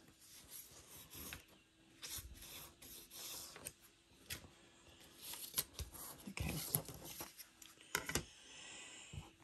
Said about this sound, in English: I'm gonna redo that fold a little bit